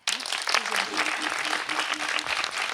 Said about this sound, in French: On va encore applaudir les aînés.